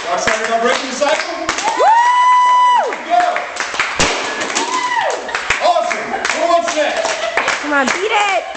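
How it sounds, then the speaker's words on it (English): An audience claps and cheers in lively bursts, mixed with shouts, sung tones and people speaking over the noise throughout. "Keep cheering me on."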